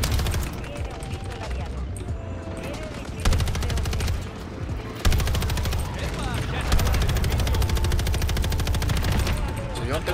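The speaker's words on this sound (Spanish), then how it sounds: "Vamos entonces a jugar con la ametralladora ligera." A light machine gun firing in Call of Duty: Modern Warfare III, long rapid bursts of loud automatic fire with brief pauses between strings, close and dominant, with a voice talking over parts of it.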